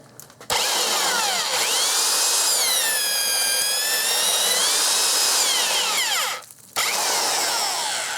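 A DeWalt USA Classic 1/2-inch heavy-duty spade handle drill bores with a self-feed bit, a loud steady motor whine with rising and falling pitch as the bit loads, a brief dip near the end, then running again.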